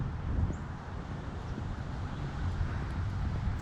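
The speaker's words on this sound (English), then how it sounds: "looks like the wind's picked up a little bit." Wind blowing outdoors on a walk around a lakeside estate grounds in September, a steady low rumbling buffet across the microphone with no other distinct sounds.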